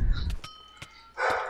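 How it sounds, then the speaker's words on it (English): A pet dog barks indoors, several short sharp barks at moderate distance behind gameplay sounds. "Sorry for my dog's barking."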